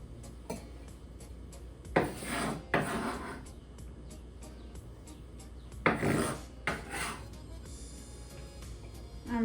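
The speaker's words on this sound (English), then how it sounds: "So I am done cutting the 2 pounds of bacon." A knife slicing through two pounds of bacon on a cutting board, giving several separate rasping cuts of a second or so each, close and moderately loud, with quiet handling between strokes.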